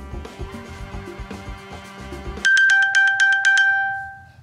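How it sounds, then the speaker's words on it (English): An iPhone, pinged from an Apple Watch to locate it, sounds a loud series of rapid high chiming pulses with a lingering tone. A softer, busier sound plays before the chimes begin. "the best setting on the Apple Watch is pinging your phone when you can't find it."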